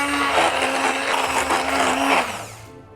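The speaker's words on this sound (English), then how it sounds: "So I'm going to try blending it with an immersion blender, hoping for the best." An immersion blender whirs through a pastry mixture, a loud continuous motor buzz with churning texture that holds steady for a couple of seconds before spinning down and cutting off.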